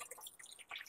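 Water splashes and drips into a hot covered pot holding steamed hilsa fish, poured in to cool it so the lid comes free; the sound is brief, light and bright, with no voices.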